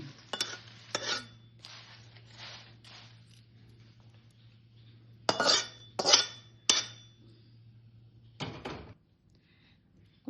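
Curry leaves and spices are dry-roasted and stirred in a pan. Scraping and clinking bursts come and go irregularly over a steady low hum, with no talking.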